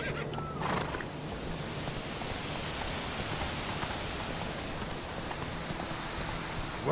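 Roach, a horse in The Witcher 3 video game, clip-clops and neighs amid steady rain, with a continuous wash of rainfall under the hooves and a whinny near the start.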